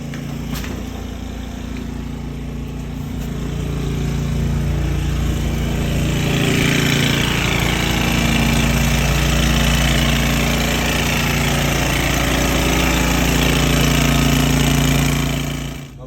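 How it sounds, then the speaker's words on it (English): A sewer power jetter blasts through a heavy grease clog in a stubborn line, producing a loud, continuous rough engine roar with pulsing, hammering texture that swells and holds steady for the whole stretch before cutting off at the end. "We are power jetting this thing and it's giving us a hard time."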